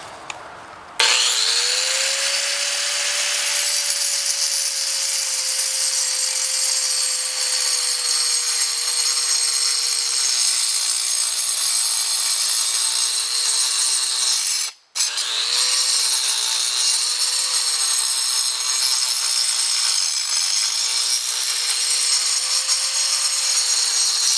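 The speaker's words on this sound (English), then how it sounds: "Haven't done any stone cutting in a while" A power tool cuts stone in a workshop with a steady high-pitched whine and grinding rasp, running continuously with a brief interruption midway and slight pitch wavers under load.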